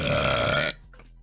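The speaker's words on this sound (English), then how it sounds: "I drink Pepsi and I'm burping a lot." A single long, loud burp after drinking Pepsi, rasping and sustained for most of a second before stopping abruptly into near silence.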